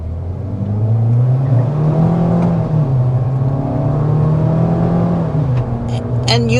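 A 2026 GMC Terrain Denali with a 1.5-liter turbocharged engine accelerates, giving a steady, fairly loud engine hum that rises slightly in pitch, with a brief sharper mechanical noise at the end.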